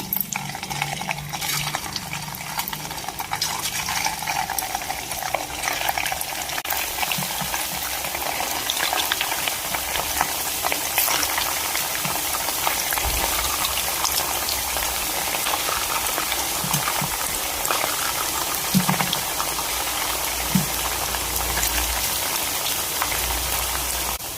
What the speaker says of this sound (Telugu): ఇవన్నీ అందులో ఫ్రై చేసేసుకుందాం